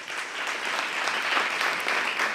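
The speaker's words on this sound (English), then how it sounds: "We should give ourselves a great round of applause for all of the hard work." A round of applause from attendees at an awards luncheon, dense and sustained clapping from a sizable crowd that holds at an even, fairly loud level with no voices over it.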